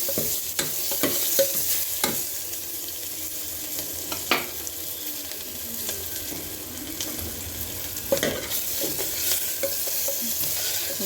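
Onions sautéed with salt until brown for avarekalu sambar: a steady sizzle with rhythmic scraping stirs and occasional sharp knocks of a spoon against the pan, close and continuous, with no talking.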